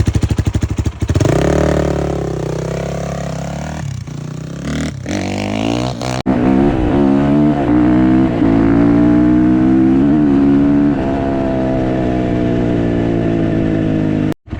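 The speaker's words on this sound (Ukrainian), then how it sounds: "Так, з нас заїзд Геон ГНС 300 Р на 31 лошадку" Racing motorcycles, among them a Geon GNS 300R rated at 31 horsepower, a Suzuki Bandit 600 and a Loncin ALX 300: a loud, close engine roars up through the revs and then holds a strong, steady drone before cutting off abruptly.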